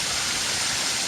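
Steady rushing flow of water, close and continuous, a dense unbroken wash with no voices over it.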